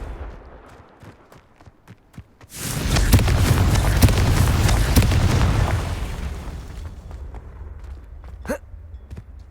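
Confringo blasting spell in Hogwarts Legacy, a sudden loud explosive burst followed by a roaring rumble that lasts several seconds before fading, then a short sharp pop near the end.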